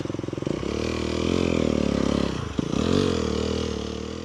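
An Aprilia RX125 motorcycle runs at speed on a main road after leaving the forest. The engine drones steadily and loudly near the microphone, with one brief dip and a shift in pitch partway through, and no talking.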